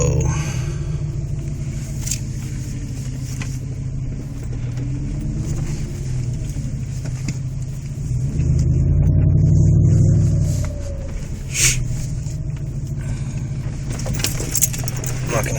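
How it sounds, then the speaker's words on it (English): Inside the cab of a 2006 Jeep Grand Cherokee with a custom side exhaust, a low steady engine drone rumbles while driving, swelling louder briefly midway, with faint rattles and clicks. "This is what it sounds like in the cab when I'm driving."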